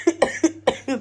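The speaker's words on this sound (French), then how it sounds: "vous avez l'exemple de comment on tousse" A child coughs in four or five short, harsh bursts at an irregular rhythm, with tight, wheezy, asthmatic-sounding tails, close and clear with no talk over it.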